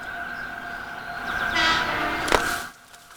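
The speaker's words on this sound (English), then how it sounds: "as the train approaches, it sounds its horn and passes through." A Spacia X express train approaching a railway work site in Tochigi, its steady horn blaring under a rising rumble, then a sharp burst as it passes before the sound cuts off.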